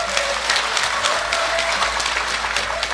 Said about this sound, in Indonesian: Mari kita tepuk tangan Bapak Ibu.